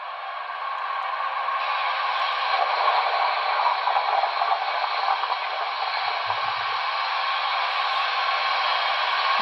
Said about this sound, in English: 10 is coal fill at idle.